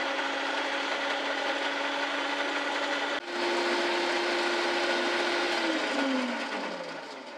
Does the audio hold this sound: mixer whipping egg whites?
yes